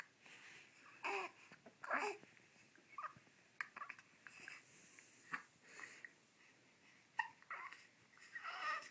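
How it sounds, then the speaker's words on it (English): A baby lying in a crib gives repeated short, sharp hiccups at irregular intervals, close and fairly quiet, mixed with soft babbling and breathing. "Damn those hiccups."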